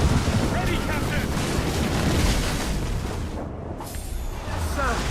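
Ship cannons fire during a naval battle in the video game Assassin's Creed Rogue, a dense, continuous rumble of booms with wind and sea noise. Voices shout through the din.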